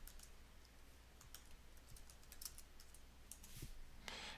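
Typing on a computer keyboard to rename a rule: quiet, fast irregular key taps close by over a low background hum, ending in a slightly louder burst of keystrokes.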